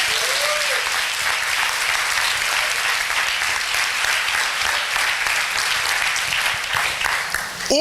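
A church congregation applauds loudly and steadily at a Foursquare Gospel congress, a dense wash of clapping filling the whole stretch without pause.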